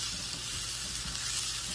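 Chicken and cheese sizzle steadily in a pan on a turned-down stovetop burner, a continuous close crackling hiss with no talk over it.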